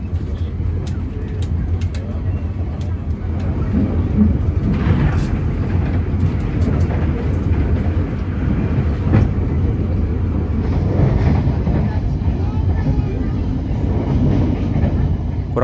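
Steady low rumble and rattle of the KA Dharmawangsa Ekspres economy passenger train running between Tegal and Pekalongan on Java's northern line, heard continuously from inside the carriage with occasional clicks and faint voices.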